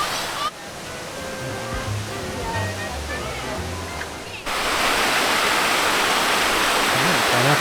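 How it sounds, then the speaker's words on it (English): Water splashes from a fountain in Charleston's waterfront park, the Pineapple Fountain, a steady loud rush of falling water that swells louder in the second half, with people talking over it at first. "And you're allowed to go in the fountain."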